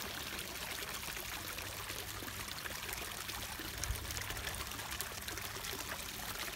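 A garden fountain sprays and splashes, a steady moderate hiss of falling water continuing without a break.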